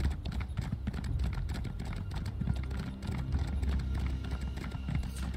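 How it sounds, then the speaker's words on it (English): Steady clip-clopping of horse hooves in a quick, even rhythm, fairly close, with a low rumbling background throughout, from a horse in the video game Elder Scrolls Online. "this horse reminds me of Shadowmere"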